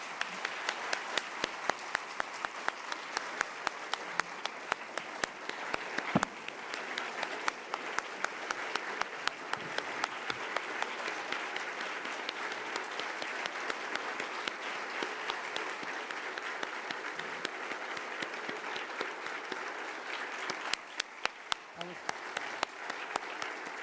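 Audience applause from a crowd at an evening event after a talk, sustained clapping at moderate volume for the whole stretch with sharper individual claps at the start and near the end.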